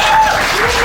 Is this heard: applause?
yes